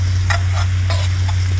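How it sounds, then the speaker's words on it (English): A spoon stirring plain white flour into melted butter in a pan at a vineyard campsite, giving a few soft scraping swishes over a steady low hum and faint sizzle. "just add some plain white flour. Give it a stir around"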